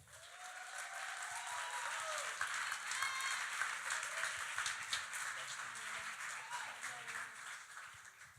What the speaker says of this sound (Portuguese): eu quero convidar agora, com aquele aplauso caloroso de vocês, Isabel Aquino